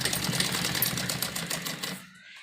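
A sewing machine runs in a fast steady burst, stitching a V-shape umbrella frock with buckram fed in bit by bit, then stops abruptly near the end.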